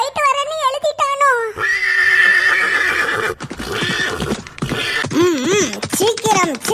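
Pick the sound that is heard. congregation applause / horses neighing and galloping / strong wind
horses neighing and galloping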